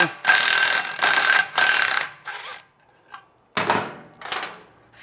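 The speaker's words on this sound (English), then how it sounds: "We'll start with our 10mm socket, and we're going to loosen the muffler right here." A 10mm socket wrench works on the muffler bolt of a Triumph Speed Twin 900 motorcycle: close, loud bursts of rapid ratcheting clicks in several separate runs, with short quiet gaps between them.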